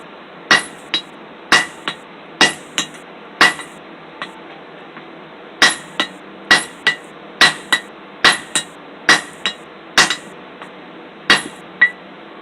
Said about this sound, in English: I'm tapping it on that hole. I'm not trying to knock it through.